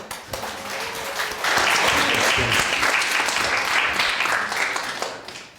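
A church congregation at a Sunday service breaks into sustained applause for children, steady clapping that swells and then gradually tapers off, with some voices underneath.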